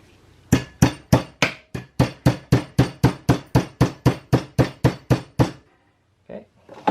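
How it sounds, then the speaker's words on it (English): Rapid, even hammer blows knock at an e-bike battery pack, a 72V 21700-cell unit. Some seventeen sharp, close metallic hits land in quick rhythm, then a brief gap and a couple of lighter taps. "The hammer looks like it works."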